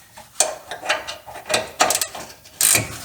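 A 19 mm wrench ratchets in short bursts while loosening a steering rack bolt on a third-generation Toyota 4Runner. About six or seven sharp metallic clicks and rasps come close up, with brief pauses between them.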